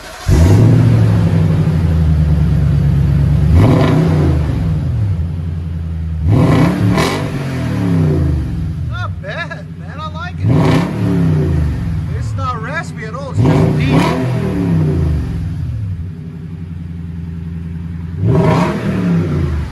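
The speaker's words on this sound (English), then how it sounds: "it's called a Dirty Deeds custom exhaust system for Toyota Tundra" A Toyota Tundra 5.7L V8 pickup's engine revs hard several times through a throaty Dirty Deeds custom exhaust, rumbling between bursts, with voices talking over it.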